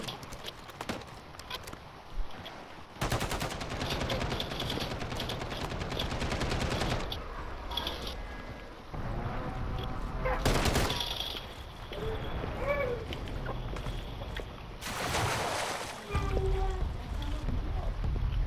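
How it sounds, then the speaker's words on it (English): Call of Duty gameplay carries bursts of rapid automatic gunfire and scattered single shots in several loud stretches, mixed with game sounds while players talk over voice chat. "Somebody shooting up, Mo."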